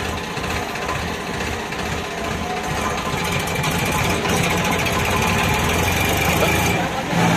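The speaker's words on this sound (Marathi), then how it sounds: "बांधकाम चालू आहे इथं." Construction machinery clatters continuously at a building site near a forest camp entry gate in the Melghat jungle, a dense mechanical rattle and drone that stays loud and steady throughout, with a brief dip near the end.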